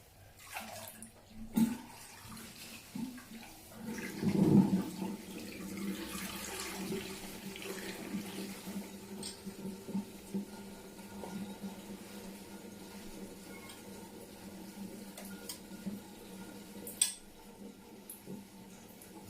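Water drains and trickles from a sink basin while crochet hair is washed, a faint steady gurgling flow with a few soft knocks and splashes nearby.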